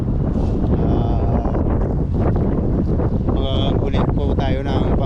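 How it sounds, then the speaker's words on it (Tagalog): Heavy wind rumbles against the microphone without pause at the seashore at low tide while someone speaks through the gusty noise. "Medyo mahangin po ngayon, at pagpasensya nyo na po kung maingay po yung ating video."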